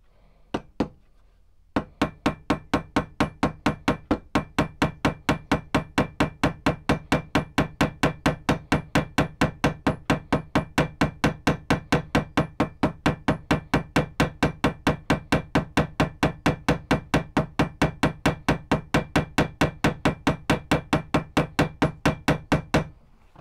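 Steady, evenly spaced hammer blows strike rivets into a sword handle in a workshop, close and loud, continuing for over twenty seconds after a couple of opening taps.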